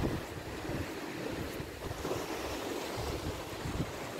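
Ocean waves wash steadily against a rocky beach favoured by surfers, a continuous broadband surf roar mixed with gusty wind buffeting the microphone, with no voices present.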